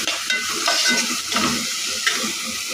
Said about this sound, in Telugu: వేసుకున్నాక మొత్తం అంతా ఒకసారి కలిపి వేసుకోవాలి